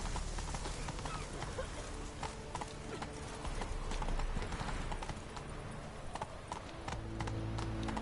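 Horse hooves clip-clop at a steady trot throughout, loud and close, while riding in The Witcher 3 video game, with light game ambience underneath.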